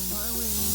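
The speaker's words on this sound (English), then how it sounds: "I'm just going to finish by spraying some disinfectant spray over the toilet." A disinfectant spray hisses steadily over a toilet in one continuous burst, close and fairly soft.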